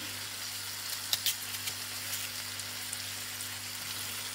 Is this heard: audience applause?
no